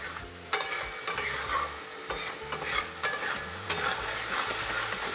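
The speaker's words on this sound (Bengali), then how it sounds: "এভাবে মশলাটাকে কষে নেব" Masala for mutton keema is stir-fried in a pan over medium-low heat. A soft sizzle runs throughout, with repeated spoon scrapes and clanks against the pan at an uneven rhythm and no speech.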